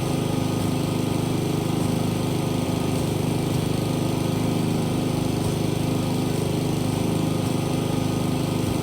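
A lawn mower engine runs continuously at a steady drone close by throughout, with no break in the noise and no voices.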